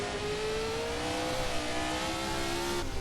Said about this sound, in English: RSS have done a good job with the engine sound